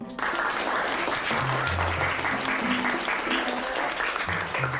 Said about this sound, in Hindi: चलो तालियां बजाओ इनके लिए।